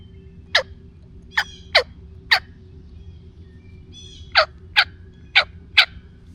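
Wild turkey gobbling in the woods during a hunt, eight sharp gobbles arriving in loose pairs and singles over a low steady background hum, with no one speaking.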